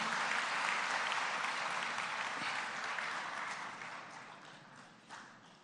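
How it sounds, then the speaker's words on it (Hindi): Audience in an auditorium in Bhopal clapping in a dense, sustained round of applause that slowly fades toward the end, with no one speaking over it. "अब ताली बजना चाहिए जरा जोर से।"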